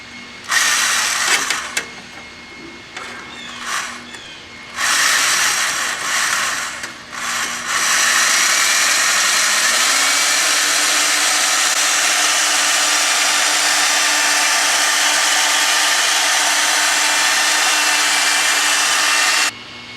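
Cylinder hone spun by a drill inside a bore on a 1970 VW Bus, a steady loud whirring grind that starts after a few brief bursts and then runs continuously for over ten seconds, alone without talk.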